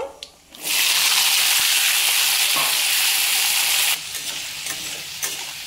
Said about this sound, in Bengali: আলুটা দিয়ে দিলাম, দিয়ে একটু নাড়াচাড়া করে নিলাম।